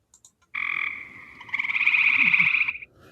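Eastern gray and Cope's gray tree frogs call together in loud, close trilling bursts, one long rattling chorus that swells and then stops abruptly, with no voices.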